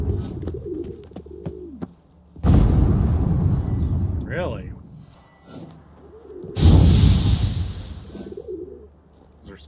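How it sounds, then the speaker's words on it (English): Pigeons coo in The Witcher video game, with several soft rolling calls between two loud rushing bursts, and someone talks over parts of it. "pretty awesome birds right there"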